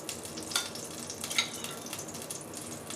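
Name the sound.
onion cooking in pan drippings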